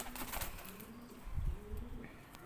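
A pigeon kept by a breeder in Islamabad, Pakistan, gives faint, low cooing with soft rustling around it in a quiet setting.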